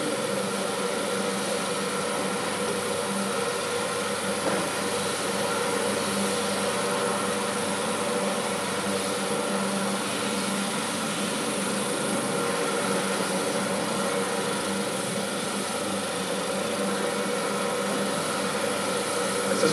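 A helicopter hovering overhead while searching for a landing spot gives a steady, loud wash of rotor and engine noise that stays constant throughout, with no talk.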